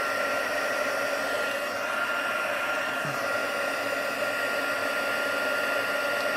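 A heat tool blows a constant, loud airy roar while melting embossing powder on a stamped card, steady and unbroken throughout with no voice over it.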